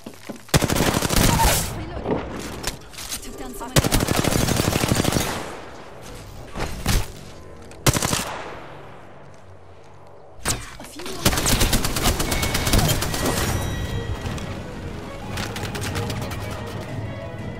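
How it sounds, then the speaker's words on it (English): Rapid automatic gunfire bursts in Apex Legends, loud and close, broken by short pauses and sharp single shots, with a long stretch of sustained fire near the end. "Getting shot at."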